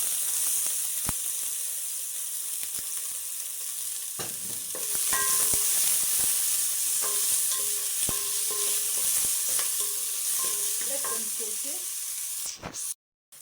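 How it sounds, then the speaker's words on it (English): Red onions fry in hot oil in a cooking pot, giving a steady close sizzle with occasional stirring scrapes and clinks throughout, no voices. "in a cooking pot, you let your oil heat up perfectly, and then we add in our red onions"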